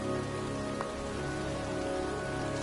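Pouring rain falls steadily in a cemetery, a dense, even patter on surfaces with no voices.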